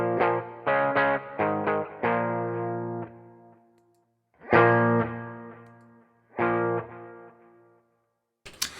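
Electric guitar played through a Dumble-inspired overdrive pedal with the ratio turned to zero, giving a cleaner tone: a quick run of picked notes and chords, then two separate strummed chords left to ring and decay, with a brief scrape at the end.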